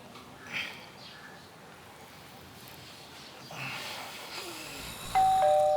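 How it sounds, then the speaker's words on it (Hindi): A doorbell rings in a house, a bright electronic chime entering near the end after a quiet stretch with faint room noise and stirring sounds. "एक तो इस घर में घंटा बहुत बजता है यार"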